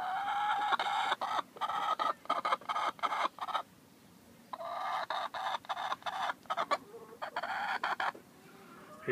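Chickens clucking and squawking in a box in bursts, close and busy, with short pauses between flurries of calls.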